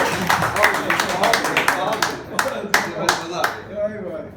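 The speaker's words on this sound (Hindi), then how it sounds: "पसंद आया तो ताली ठोको ना।" Scattered clapping from an audience at a Hindi political speech, a run of uneven claps that thins out, with a voice speaking underneath and a few louder isolated claps toward the end.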